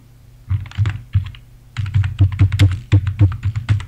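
Someone types a blog post on a computer keyboard, producing close, crisp keystrokes in quick bursts with a brief pause before a longer, rapid run of clicks.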